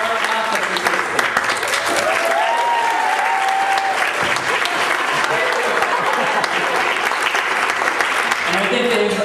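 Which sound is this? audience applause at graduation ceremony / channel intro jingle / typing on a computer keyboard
audience applause at graduation ceremony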